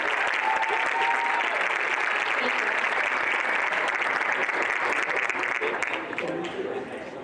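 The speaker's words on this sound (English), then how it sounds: "So round of applause, please, for our 50 years of service honorees." A room full of people applauding long-service employee honorees at a college recognition brunch, sustained clapping that stays full and even before easing off near the end.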